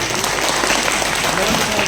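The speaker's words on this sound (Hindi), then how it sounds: "एक पहले जोरदार तालियां एक हो जाए।" Loud, dense applause from an audience at an evening Hindi cultural program, steady and continuous throughout with crowd noise mixed in, close and filling the room.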